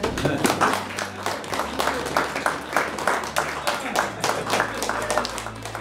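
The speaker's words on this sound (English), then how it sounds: "Please have a round of applause." A room of guests claps for a WWII Hawker Typhoon pilot's 100th birthday celebration, a close, moderately loud applause with distinct individual claps that rises and falls in uneven bursts.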